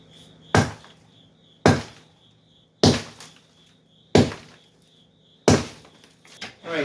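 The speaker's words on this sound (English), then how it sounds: "smacked it with the sledgehammer quite a few more times" Sledgehammer smashing a basement concrete floor, five heavy sharp impacts spaced about a second apart, each followed by crumbling debris, close and alone.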